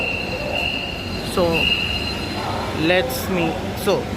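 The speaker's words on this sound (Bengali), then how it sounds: "সাই করে ট্রেন ঢুকে গেছে" A Dhaka metro train pulling into the station, its wheels squealing in high, wavering tones over a steady rumble and air-conditioning hum, with a voice talking over it.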